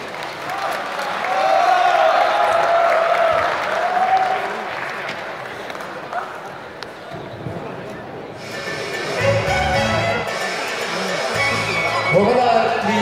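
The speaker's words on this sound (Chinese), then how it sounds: "大家掌声欢迎。" An audience at a Chinese stage program claps in sustained applause to welcome a calligraphy performance, a dense crowd wash lasting several seconds, with a presenter's amplified voice heard over and after it.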